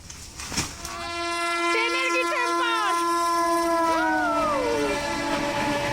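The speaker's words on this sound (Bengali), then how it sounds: "এটা হচ্ছে এক্সপ্রেস বুঝেছো through train through through train যাচ্ছে" An express through train passes close by with a loud, sustained rumble of rolling wheels. Long, wavering horn blasts sound over it, and a brief sharp knock comes just before the noise swells.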